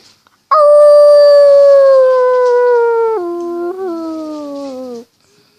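A person imitates a wolf howl with one long, loud, sustained vocal howl that slides gradually downward in pitch, breaking into lower steps near the end before stopping abruptly.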